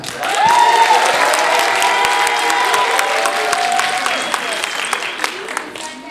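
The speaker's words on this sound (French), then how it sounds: "Je vous demande de faire du bruit pour la cigale." Audience in a live cabaret reading show in Figeac applauds and cheers loudly for the cicada during a clap-meter vote, a dense steady wash of clapping and voices with whistles and shouts sustained for the whole stretch.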